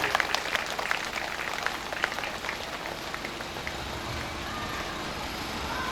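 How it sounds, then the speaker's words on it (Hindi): A gathered audience at a Shiv Mahapuran religious discourse claps together, soft and somewhat distant, with a few sharper claps early on before it settles into a steady wash. "बार बार आप कथा में जा रही हो, इसलिए एक बार अपने लिए ताली बजा लीजिए।"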